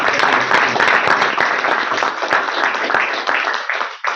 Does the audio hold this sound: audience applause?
yes